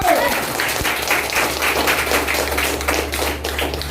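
An office group in Indonesia applauds a staff promotion, giving a brisk burst of many hands clapping nearby over a steady low hum, with voices mixed in.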